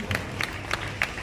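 An audience applauds a senior artist, Sudipta Das, at a cultural performance held in memory of the late Guru Narayan Singh; steady, fairly faint clapping forms a continuous wash with a few sharper bursts.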